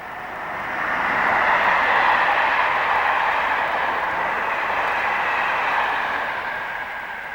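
A British Rail Class 86 locomotive on the Wolverhampton line passes as a broad, steady rumble that swells over the first second, holds for several seconds and then eases slightly as it moves away.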